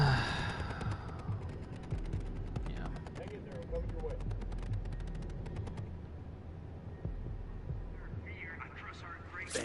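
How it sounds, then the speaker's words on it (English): Gunfire in Ghost Recon Wildlands, a rapid string of sharp, clipped shots in quick bursts under game dialogue and radio chatter, with a low rumbling background. "I'm shooting these"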